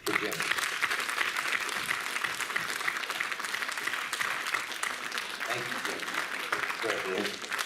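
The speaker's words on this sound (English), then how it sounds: "So a round of applause, please, for Jim." Convention panel audience breaking into sustained applause for an animator, a thick, even roar of many hands clapping that runs the full length, with faint voices and cheers mixed underneath.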